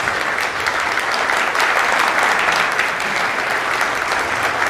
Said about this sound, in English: At this point, folks, the more you applaud, the deeper they go